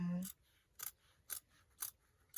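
Scissors cutting away the seam allowance on a shirt collar, four crisp snips at a steady rhythm, close and quiet, following a brief low hum at the start.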